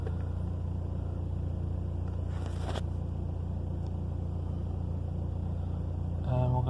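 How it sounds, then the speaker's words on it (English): A Mercedes-Benz C-Class with a faulty ambient air temperature sensor idles steadily, a continuous close low rumble with a brief rattle partway through and a faint voice near the end. "And if we start the car,"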